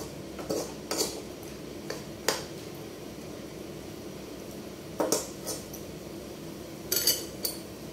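A utensil scrapes and clinks against a pot of chicken adobo as it is stirred, giving sparse, quiet knocks in irregular pairs over a low steady background hum.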